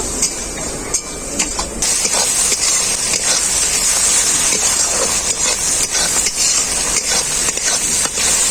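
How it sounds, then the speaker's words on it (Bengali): A steady, loud sizzle of turmeric, chili and cumin spice paste frying in a pan, with occasional scraping and stirring knocks throughout and no voices. "হলুদ গুঁড়ো লঙ্কা গুঁড়ো জিরে গুঁড়ো ভালো করে মশলাটাকে আমি কষিয়ে নেব"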